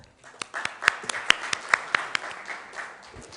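An audience at a conference session welcomes a speaker with applause, a crisp run of separate claps building then fading over a few seconds in a hall.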